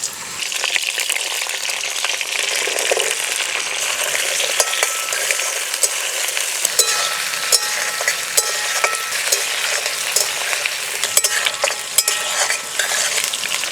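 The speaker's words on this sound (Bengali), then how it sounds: "এবার পটল আর পেঁপে দিয়ে দেব।" Pointed gourd and green papaya fry in hot oil after the potatoes, a dense, steady sizzle close by. Frequent scraping stirs and clinks of a spatula run through it for the full length.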